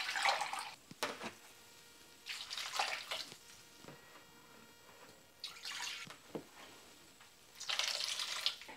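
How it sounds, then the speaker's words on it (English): White and apple cider vinegar pours in short splashing bursts, four quiet rushes of liquid separated by brief pauses, with small clinks in between. "We're also gonna add 3 cups total of vinegar."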